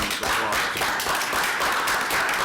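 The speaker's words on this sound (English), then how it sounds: "I'd like to offer a round" An audience at a city council meeting gives a round of applause, a dense even patter of many hands clapping throughout.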